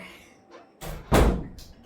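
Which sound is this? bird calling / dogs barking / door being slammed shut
door being slammed shut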